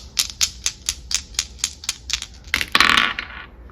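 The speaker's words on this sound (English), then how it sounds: "I'm going to roll the Astro dice" Astrology dice clatter in a quick run of about a dozen sharp, evenly spaced clicks, ending in a brief denser rattle as they settle, close and with no talking.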